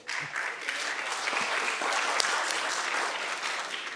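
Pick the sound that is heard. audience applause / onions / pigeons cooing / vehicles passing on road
audience applause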